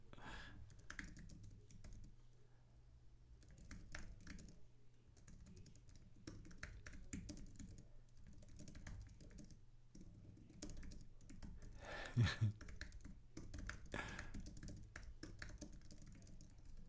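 Typing on a computer keyboard during a stock-trading live stream, with quiet, irregular clicks and soft tapping in steady bursts that carry on throughout, faint and close with no talking.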